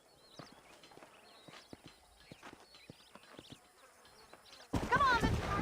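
Horse hooves clip-clopping at a steady walking pace in the Red Dead Redemption video game, faint and fairly distant under soft ambient noise, before a louder burst of sound cuts in near the end.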